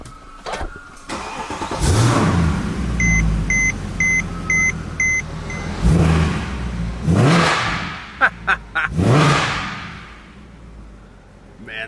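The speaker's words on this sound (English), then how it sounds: "we're ready to start the car up" A Mercedes C63 AMG fires up with a sharp crank and roar, then revs repeatedly in loud surging bursts, with a few electronic beeps from the car in between.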